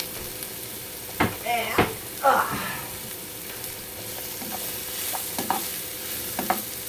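Diced apples and white onion pieces sizzle quietly in a pan, with several distinct scraping stirs of a utensil against the pan over a low continuous fry; a voice briefly speaks.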